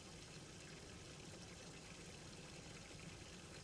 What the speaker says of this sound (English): keep the water running for a second